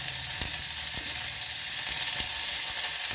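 Onions sizzling in a small amount of hot oil with a piece of cinnamon and two cloves in a pan, a steady close hiss with occasional soft stirring taps.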